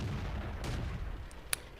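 Artillery tank firing in World of Tanks, a single muffled boom followed by faint sharper reports, fairly distant under game ambience, with no talk.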